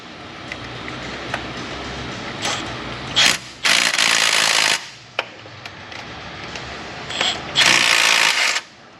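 A ratchet fitted with super shallow sockets works bolts loose on a 2012 Chevy Avalanche 5.3, giving bursts of rapid clicking separated by quieter handling noise and metallic clanks, close and loud.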